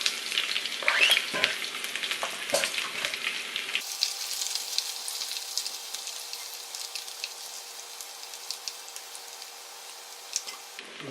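Green chili peppers sizzling with cumin in hot oil in a pan, a steady crackling fry that turns to a smoother, fainter hiss partway through, no speech.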